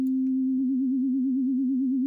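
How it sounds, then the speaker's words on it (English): Steady pure sine tone from an FM synthesis oscillator, its pitch gently wobbling up and down in a slow regular vibrato from a sine wave LFO, loud and alone after a few brief clicks at the start. "sine wave oscillator. And my LFO is another sine wave."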